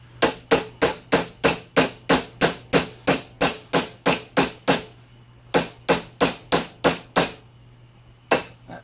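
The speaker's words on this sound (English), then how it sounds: "Now I know it's aligned and I can use my punch," Hammer strikes on a punch driving a pin through a part of a Cub Cadet mower, a steady fast run of loud sharp metallic blows, a brief pause, another quick series, then a final single strike.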